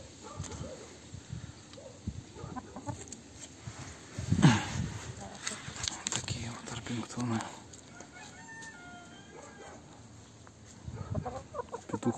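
Gold-laced Orpington hens and a very large young rooster cluck and call softly in a yard, with brief vocal bursts scattered over quiet background while a person talks nearby.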